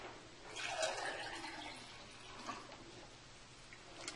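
Liquid poured from one cup into another, a soft splashing trickle that swells briefly then tapers off, faint and close, with a few small drips afterward.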